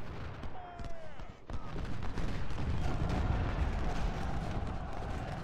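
Civil War battle in the Ultimate General: Civil War video game, with artillery booms and scattered musket gunfire rumbling steadily at moderate distance, alone without talk.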